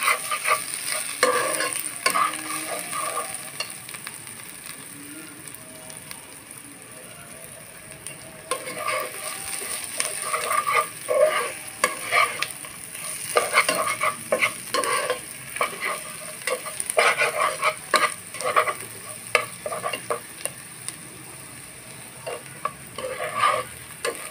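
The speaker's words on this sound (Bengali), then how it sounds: "চিনি গুঁড়া চাল দিয়ে আমি ভালোভাবে ভেজে নেব।" Dry rice grains are stirred and scraped around a hot pan while dry-roasting, giving repeated soft rasping strokes over a faint steady sizzle.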